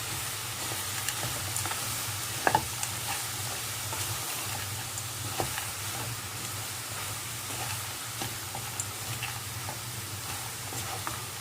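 Spiced samosa vegetable filling with salt and lemon juice cooks in a dry pan without oil or butter, giving a steady soft sizzle and hiss with occasional light taps, no voices.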